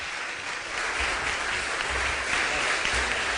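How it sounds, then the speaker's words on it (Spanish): Steady audience applause fills a conference hall at a real estate industry event, a dense wash of many hands clapping together at moderate volume with no voices over it. "para todos ellos pedimos un fuerte aplauso"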